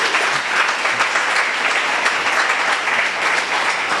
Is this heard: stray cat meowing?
no